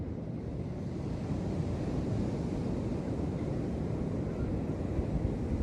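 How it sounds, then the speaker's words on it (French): Ocean waves wash continuously behind people doing qi gong outdoors, a steady low roar of surf blended with wind buffeting the microphone, with no distinct breaks between swells. "vous entendez les vagues derrière nous"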